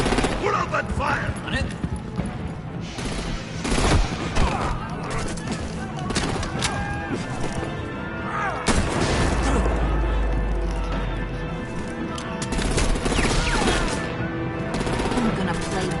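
Rapid bursts of gunfire in a Batman video game crackle loudly and almost continuously, mixed with impacts and a low rumbling hum, while voices shout over the shooting.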